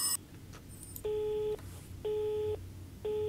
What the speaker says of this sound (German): Besetzt.